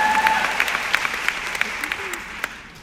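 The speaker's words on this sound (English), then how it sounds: "y'all can clap for that" Audience applause in a large hall, a dense wash of many hands clapping at once, steady and sustained before gradually tapering off.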